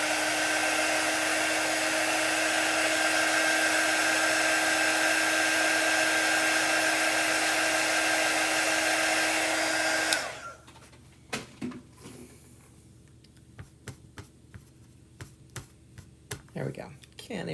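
A hair dryer blows to dry chalk paint, a loud steady whine for about ten seconds before cutting off abruptly, followed by light tapping and handling noises close by.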